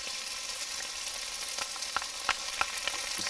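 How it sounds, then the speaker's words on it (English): Browned beef with 6 ounces of tomato paste sizzling in a pan for beef and stout stew, a steady soft frying hiss with a few faint pops and stirring scrapes. "we got our beef brown, so now we're going to add our tomato paste"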